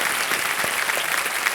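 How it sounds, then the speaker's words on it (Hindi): A studio audience on a television quiz show in Kaun Banega Crorepati claps for a contestant, a brief, even burst of applause heard without speech. "तालियां बज जाएं इनके लिए"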